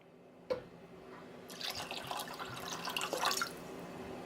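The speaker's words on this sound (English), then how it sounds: "let's add the secret ingredient, sake." Sake poured into miso soup broth with king crab, beans and mushrooms: a single sharp click, then a steady trickling pour of liquid that rises and fades after a few seconds, close by.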